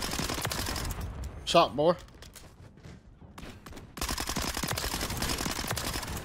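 Bursts of video-game gunfire in Call of Duty: Modern Warfare III with the MINIBAK submachine gun, dense rapid firing that fills the opening and final stretches with a quieter lull in between, while a voice briefly talks.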